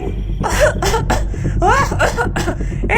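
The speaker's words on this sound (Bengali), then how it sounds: "উপর থেকে শাকচুন্নির কাশির আওয়াজ ভেসে এলো" A shakchunni, a female ghost in a Bengali audio drama, coughs from somewhere above: a close, loud run of several rough, throaty coughs and hacking breaths in an uneven rhythm, performed by a voice actor.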